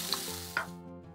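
A pan of urad dal, pepper and grated coconut gets a quick stir, two short scraping strokes over a faint sizzle that fades out.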